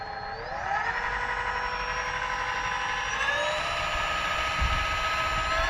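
The electric drive motor of a VoyaX Mossa 128 kayak runs with a loud steady whine that steps up in pitch as the speed setting rises, close and continuous.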